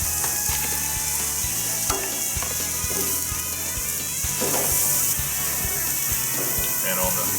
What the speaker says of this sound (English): You can hear that sizzle as they go on the grill.